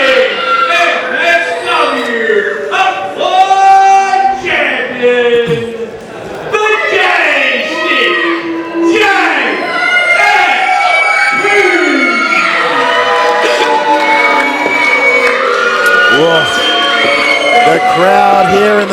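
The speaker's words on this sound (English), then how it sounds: "crowd here in the Geelong Ukrainian Hall is letting him know that they are not pleased to see that man here" A wrestling crowd in the Geelong Ukrainian Hall gives a loud, sustained mixed reaction of shouts, whoops and jeers aimed at the reigning MXW Upload Champion, with a commentator's voice running over the crowd noise throughout.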